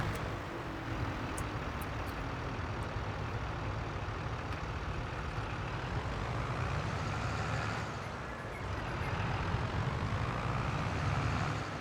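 A truck engine's exhaust in the Farming Simulator 22 video game gives a steady, loud droning rumble that keeps going throughout, with a slight dip near the end.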